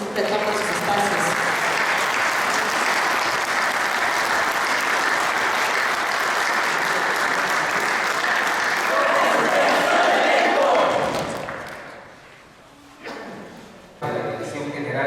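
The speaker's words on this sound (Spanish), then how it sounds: "le brindamos un fuerte aplauso" A large audience at an International Mother Language Day ceremony claps in a loud, sustained ovation that holds for about eleven seconds before tapering off abruptly, leaving brief stray sounds and a voice.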